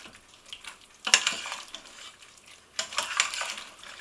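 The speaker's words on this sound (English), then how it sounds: "it's important to give the dish a good old stir" A butter bean and vegetable casserole is stirred in an Instant Pot, giving two close bouts of wet, squelching stirring with a spoon scraping the pot, separated by a quieter pause.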